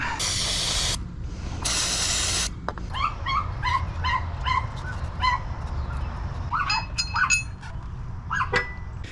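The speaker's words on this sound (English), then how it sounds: "I'm going to blow out these holes as well for the pressure plate." Compressed air blasting through the flywheel bolt holes on a built Honda K20/K24 engine going into an Acura RSX: two loud one-second hissing bursts up close, then a dog barking and whimpering in the background.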